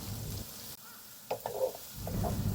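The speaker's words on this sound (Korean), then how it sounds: "마늘, 대파 넣고 파기름 내줍니다." Minced garlic and green onion sizzle in hot oil beside king oyster mushrooms, a steady crackling fry interrupted briefly by stirring, then rising again.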